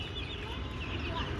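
Young Sonali chickens, eighteen-day-old chicks kept on a rooftop, cluck and peep steadily over a constant low outdoor hum, moderately close and fairly quiet.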